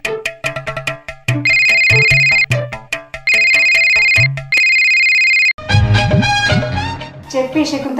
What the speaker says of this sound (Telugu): శకుంతల, చాలా రోజులకు ఫోన్ చేసినావు?